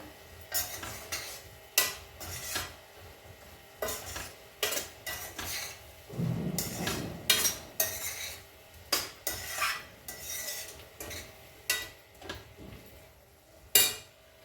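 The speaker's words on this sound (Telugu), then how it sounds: "ఇదంతా ఇట్లా కలిపేసుకుందాం మంచిగా" A spoon mixes a fenugreek, potato and tomato curry in a pan, giving repeated sharp metallic clinks and scrapes in an irregular rhythm, with a soft brief sizzle partway through.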